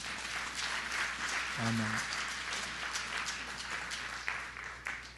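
A church congregation applauds, a dense, distant patter of clapping running throughout beneath a brief spoken word.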